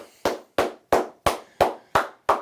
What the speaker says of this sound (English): Let's clap it up to them.